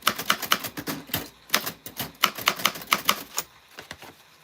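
Typewriter striking keys while typing on a creased card, a steady run of sharp, close mechanical clacks with brief pauses, alone without talk.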